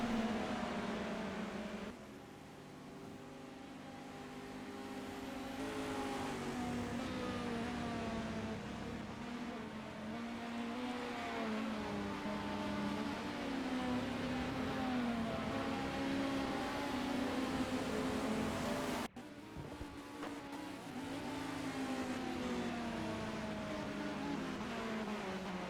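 Racing cars in a Silverstone endurance race sim, including a Porsche, drone steadily with rising and falling engine whine along the start-finish straight, continuous and fairly faint, with brief shifts in pitch as cars pass and a sudden cut partway through.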